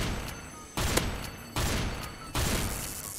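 Gunfire in a Roblox prison-escape fight against superheroes: three loud bursts of rapid shots about every 0.8 seconds, each cutting off sharply, close and dense, with no talking.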